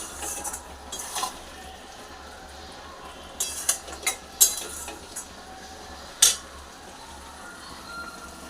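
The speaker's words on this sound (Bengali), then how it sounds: "এবার এটা কষতে থাকবে, যতক্ষণ না তেলটা ছাড়ছে ততক্ষণ আমি কষিয়েই যাব।" Fish curry masala is stirred in oil in a pan, with scattered metal scrapes and clinks of a spoon against the pot and a faint sizzle underneath.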